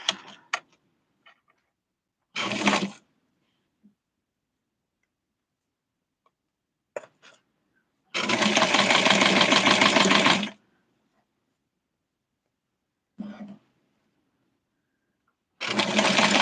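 A sewing machine stitches a Barbie dress in short bursts: a brief run, a longer steady whirring stretch of rapid stitching, then another burst starting at the end, with small clicks and silence between.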